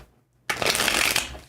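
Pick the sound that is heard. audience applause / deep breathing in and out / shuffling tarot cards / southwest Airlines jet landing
shuffling tarot cards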